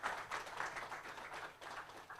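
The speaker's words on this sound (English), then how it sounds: "can we have a big round of applause for all the panelists here?" Applause from an audience for the panelists at a law school centre launch, a steady broadband patter at moderate level lasting the whole moment, with no speech over it.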